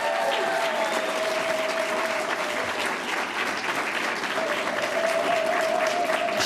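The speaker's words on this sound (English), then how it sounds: "Give her a round of applause." An audience applauds a moderator introduced onstage at a Democratic National Committee candidates' forum: dense, steady clapping from a large crowd that fills the whole stretch without pause.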